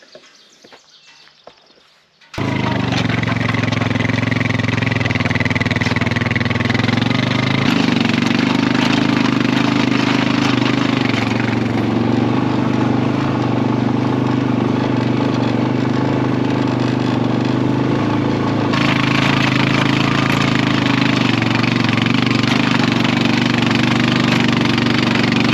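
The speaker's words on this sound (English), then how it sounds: "if you can get it with your quad and get these plots, this is about an acre plot that I'm doing right now, and it's zipping right through it" An ATV quad engine drones loud and close while pulling a ground-breaking food plot implement across a roughly one-acre plot, starting abruptly after a quiet moment and then running steadily, with shifts in load partway through.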